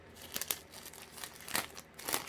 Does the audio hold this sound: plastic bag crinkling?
yes